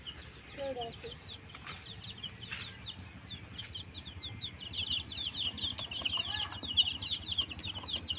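Turkey chicks peep in rapid, high, repeated chirps that build toward the end, over faint background noise in a rural setting.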